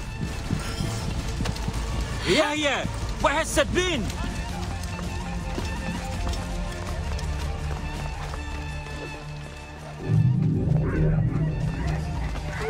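Hoofbeats of a horse galloping in the video game Assassin's Creed Origins, a run of rhythmic clip-clop under in-game music and effects, with a brief whinny and voices talking over it.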